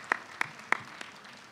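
Scattered hand claps from an audience at a stage arangetram vote of thanks, a few distinct claps spaced irregularly and fading, sparse rather than full applause.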